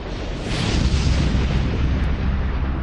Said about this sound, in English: But the colossal explosion at 10:50 p.m. rips the end off it